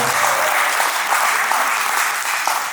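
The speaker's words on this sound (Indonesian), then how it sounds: "Tepuk tangan untuk seluler." Audience applause fills a crowded local entertainment event in Indonesia, a steady wash of clapping that stays loud and even throughout with no pauses.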